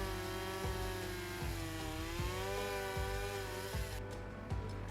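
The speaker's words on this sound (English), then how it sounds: "And I make a test post with the chainsaw." A chainsaw cuts a wooden test post outdoors in cold, rainy woods, its engine a sustained harmonic drone with a few brief bursts of cutting load, heard at moderate distance without talk.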